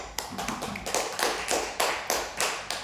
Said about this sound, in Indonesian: Beri aplaus dulu untuk teman-temannya